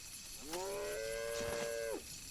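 Cattle in The Bard's Tale Remastered and Resnarkled give one long, drawn-out moo of about a second and a half, loud and clear over a steady game-ambience hiss.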